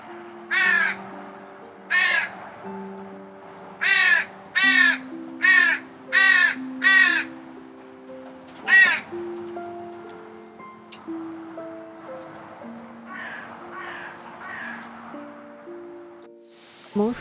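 Wild crows call in a series of loud, harsh caws, mostly single or paired bursts a second or two apart, with softer, more distant caws later over a calm background of sustained musical tones.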